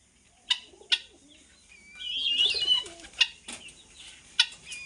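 Backyard chickens and a young rooster or two calling, with sharp clucks and a short strained crow-like squawk, close by, among quiet pauses.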